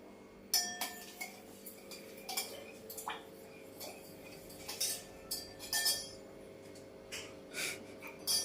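A spoon stirs and mixes ingredients in a dish, producing faint, sporadic metallic clinks and scrapes against the bowl in an otherwise quiet kitchen.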